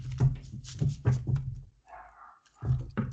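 A dog barks several times in quick succession nearby, pauses briefly, then barks again, with a faint whine in the gap.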